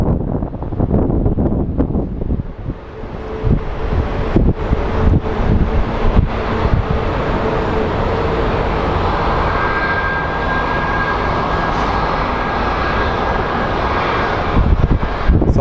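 An American Airlines regional jet operated by SkyWest departs Phoenix Sky Harbor Airport for Tucson, a loud sustained engine roar that swells and holds, mixed with gusty wind buffeting the microphone outdoors.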